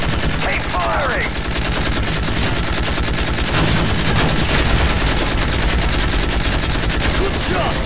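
Call of Duty Modern Warfare 3 gunfire in a continuous, heavy barrage of rapid automatic shots, loud and unbroken for the whole stretch, with brief shouted voices poking through the din.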